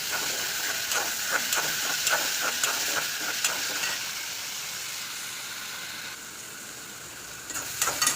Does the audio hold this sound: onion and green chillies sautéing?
yes